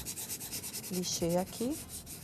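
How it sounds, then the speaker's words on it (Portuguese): Sandpaper rubbed back and forth over a painted MDF board, a soft, steady rasping texture with a few brief tonal squeaks near the middle. "Eu uso até lixo aqui uma na outra para poder ficar mais fininha."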